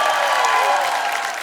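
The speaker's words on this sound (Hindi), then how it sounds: "जोरदार तालियां कार्तिक के लिए" A studio audience on Kapil Sharma's comedy show gives loud, dense applause that fills the whole room, a constant roar of clapping and crowd noise close to the microphone.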